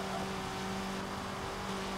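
A steady, droning car engine hum from the Forza Motorsport 7 racing game, a tuner car held at a constant rev with a faint tonal whine, continuous and even throughout with no talk.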